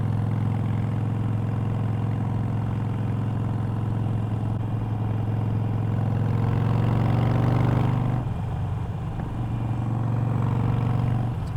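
A Harley-Davidson Iron 883 motorcycle running, its low engine drone and throb steady and close, shifting pitch briefly partway through, with no speech.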